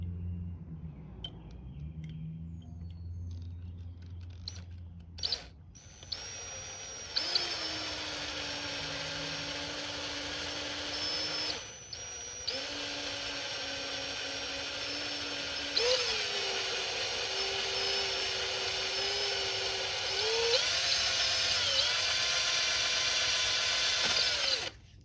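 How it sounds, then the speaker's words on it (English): A power drill bores through the shifter seal on a dirt bike, whining at a steady pitch in several long bursts with brief stops and pitch shifts as it bites, close and alone after a few clanks at the start. "we're just gonna drill through the seal now"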